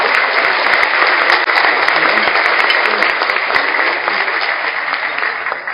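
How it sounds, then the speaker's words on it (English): Audience applause for honorary co-chairs at a National Philanthropy Day event, a loud, steady roar of many hands clapping that carries through evenly and eases slightly toward the end. "Another round of applause for them."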